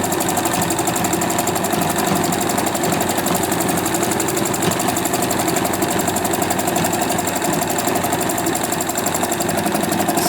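A sewing machine tacking down fabric scraps runs continuously at high speed, a loud, fast, even mechanical chatter of needle strokes close by with no pauses.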